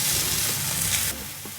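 A burger patty searing in a hot pan, about a minute per side, a close broadband sizzle that drops slightly partway through.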